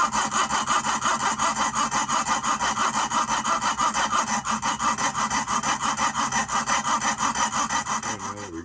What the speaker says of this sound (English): So we're going to cut the head off of this, and we'll show you why in a moment.